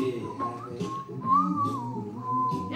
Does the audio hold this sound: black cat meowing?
no